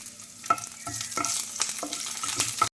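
Curry leaves frying in hot oil, a bright crackling sizzle punctuated by repeated clattering stirs of a spoon in the pan, close and fairly loud throughout.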